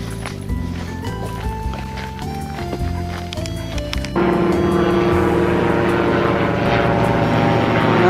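A microlight aircraft passes overhead above the River Weaver trail near Bostock Green, a steady loud engine drone that swells and holds closer in the second half.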